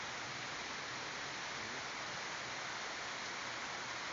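Floodwater rushes through a flooded subdivision street in rain, a dense, steady roar of moving water that stays even and continuous throughout, with no voices.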